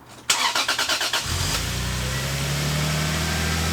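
A Lexus IS300 with a 2JZ engine cranks briefly with a rapid chugging starter whir, then catches and settles into a steady, fairly loud idle heard up close, with no voices.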